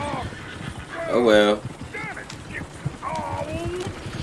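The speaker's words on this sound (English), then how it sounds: "Damn horse." A horse neighs loudly with a strained whinny in the Western game Red Dead Redemption, amid scattered hoof and ambient noises, while characters talk around it.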